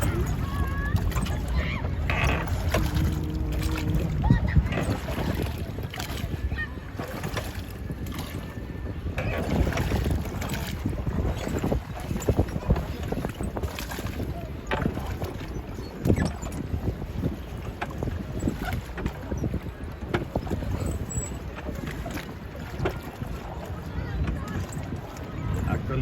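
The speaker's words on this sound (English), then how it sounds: "this is the first time self-paddling this boat" A small boat is paddled by hand on open water, with continuous splashing and water wash under steady wind buffeting the microphone throughout.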